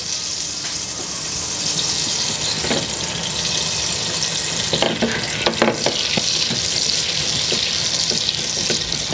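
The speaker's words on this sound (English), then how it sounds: "So once the butter has fully melted, so I'm stirring the pan to help melt it even quicker" Butter and oil melting together in a pan, with a steady soft sizzle and hiss under scattered scraping and clinking as the pan is stirred; close and fairly constant, no voices.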